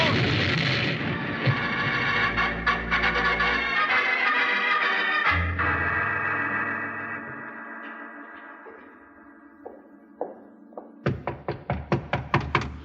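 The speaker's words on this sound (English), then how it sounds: "it's going to explode" A powder keg explodes in a 1950s radio western, a loud booming blast followed by a long rumbling decay, then a quick burst of sharp cracking thuds at the end.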